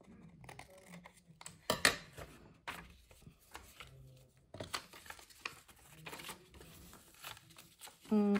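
Scissors snip through old book pages in a quiet room, with scattered crisp cuts and paper rustles, close and soft, under an intermittent voice talking.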